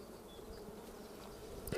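Honey bees drone around an opened beehive at a riverside apiary in spring, a steady low buzz with a louder bee passing close near the end and no talking.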